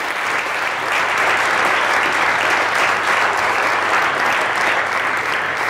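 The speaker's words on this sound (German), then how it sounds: "Applaus für Christoph Zander!" Studio audience applauding steadily and loudly at a live German TV finale show, a dense sustained clapping that fills the whole stretch without a break.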